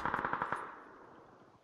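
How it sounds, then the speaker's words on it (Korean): Rapid machine-gun burst in a battle royale video game, about five quick sharp shots in a row followed by a fading echoing tail. "총소리와 함께 등장한 적을 발견하게 된다"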